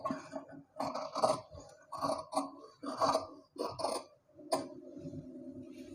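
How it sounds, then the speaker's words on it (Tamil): Scissors cut around the armhole of a crop top, giving a string of close, rasping snips through the fabric with brief pauses between cuts. "இந்த இடத்துல ஆம் ஹோல் ரவுண்டு நம்ம கட் பண்ணி எடுத்துக்கலாம்."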